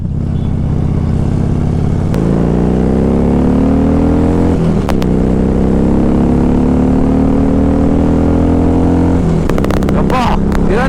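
A Harley-Davidson motorcycle engine revs very loudly and close, a deep thumping roar that climbs and drops with each gear change, with voices talking over the ride.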